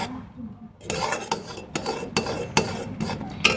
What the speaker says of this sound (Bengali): এইভাবে ভালো করে নাড়াচাড়া করে আমি একটি সফট ডো তৈরি করে নেব